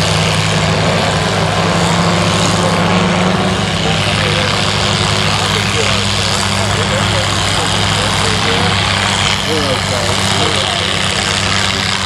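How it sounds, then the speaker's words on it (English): A stock 5000 gas tractor engine labors loudly at a tractor pull field day, a steady close heavy drone with rhythmic throbbing throughout, while people talk over it. "listen how much engine power it's got for that thing"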